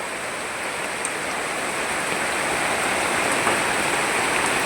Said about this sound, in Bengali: এখন ডাল আর চালটাকে আমি আলাদা আলাদা করে জল ঢুকিয়ে দিব।